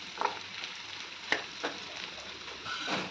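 Chopped ivy gourd frying in a pan, a steady soft sizzle broken by a few sharp clanks and scrapes from stirring, close up with no talking.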